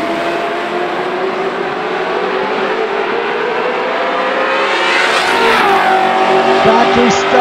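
Factory stock drag race cars launch down a drag strip at an NMRA/NMCA event, a loud sustained engine roar that swells and shifts pitch as the cars pull away, with an announcer talking over it throughout.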